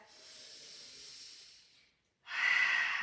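A deep, drawn-out breath in a yoga class: a long, soft airy exhale, a brief pause, then a louder, sharper rush of breath, close to the mic and alone.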